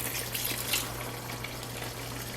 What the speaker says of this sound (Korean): 물을 조금 부어주세요.